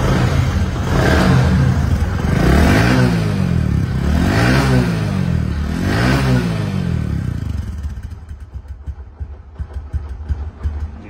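A used, second-hand Bajaj Platina motorcycle engine is revved up and down three times in rhythmic swells, close and loud, then drops back to a steady, lumpy idle.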